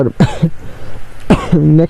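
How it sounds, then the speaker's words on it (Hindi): A couple of short, harsh coughs close to the mic, separated by a brief pause, with a voiced throat-clearing quality. "मुझे खांसी स्टार्ट हो गई"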